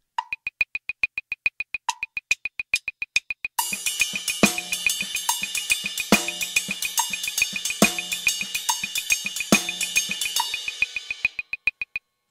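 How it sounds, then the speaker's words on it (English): A drum kit opens with a few sparse, sharp clicks and then settles into a halftime shuffle groove with soft ghost notes under a steady ride cymbal. The groove plays for about eight seconds and stops abruptly. "If you put the ghost note between ride cymbal pattern in the beat 1 and 2 and number 4, it sounds something like this."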